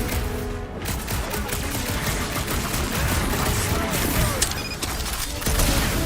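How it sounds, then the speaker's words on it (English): Gunfire in the video game Guardians of the Galaxy, a dense, continuous barrage of shots at a creature that stays loud throughout, mixed with game effects. "Shooting the jelly's no good!"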